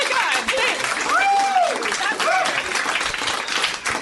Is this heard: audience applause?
yes